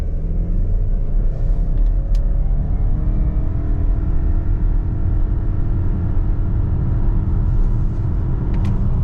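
Heard from inside the cabin, a 2025 Subaru Ascent launches from a brake rev and accelerates to 60, its engine a steady, loud rumble that slowly rises in pitch with no talking.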